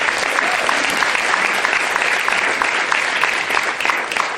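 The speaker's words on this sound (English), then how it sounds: "Can you give communications a round of applause?" A large audience at an education event breaks into loud, sustained applause, dense and even for the whole stretch with no talk over it.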